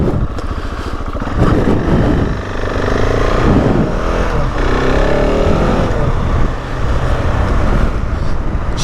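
A 2021 KTM 690 Enduro R single-cylinder motorcycle accelerates hard and steadily, its engine note close and loud with rising revs, a short dip near mid-clip, then pulling again to the end.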